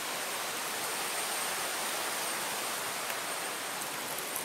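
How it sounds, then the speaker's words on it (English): River water released from a dam rushes past in a steady, dense, broadband roar that stays loud and continuous throughout, with no voices. "There's a dam over there, so it releases the water."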